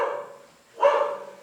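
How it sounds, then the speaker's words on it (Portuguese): Dogs barking at a teacher's home class in Brazil: a short burst of barking swells in about halfway through, fairly close and loud, with no talk over it. "porque os cachorros estão atrapalhando"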